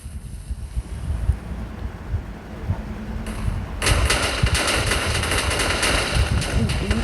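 Dense, roaring blasts build into a continuous loud rumble of game explosions from the middle onward, with crackling debris noise throughout.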